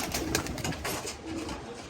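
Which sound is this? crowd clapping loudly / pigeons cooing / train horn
pigeons cooing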